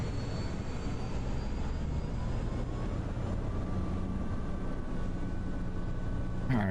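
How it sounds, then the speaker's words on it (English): Helicopter in a military future-warfare video game, a steady droning rotor and engine roar that holds loud and constant throughout with no talk. "we're in the helo."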